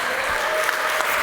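A live audience claps steadily and densely, a continuous wash of applause filling the whole short stretch with no voices over it.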